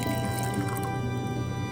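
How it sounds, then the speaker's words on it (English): Water poured steadily into thick ground cashews for homemade cashew milk, a continuous close liquid rush with gurgling and squishing throughout. "Now I'm going to add in the rest of the water into this"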